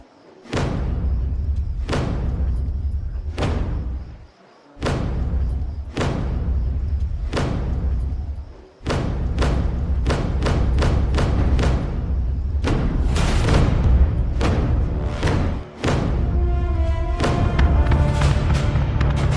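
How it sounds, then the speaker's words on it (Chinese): Heavy war drums are beaten in a steady rhythm, deep booming strikes repeating close and loud, speeding up into a faster roll near the end. "来吧，我们战鼓响了啊！"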